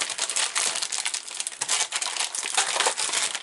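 Paper crinkling and rustling as a mail parcel is opened, a dense continuous crackle of close, fairly loud crumpling with no voices.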